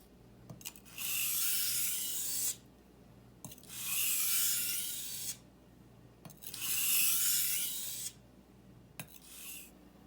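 A knife is drawn across an 8000 grit sharpening stone in three long, steady, gritty strokes, evenly spaced and close up, each a smooth rasp followed by a brief pause, with no talking.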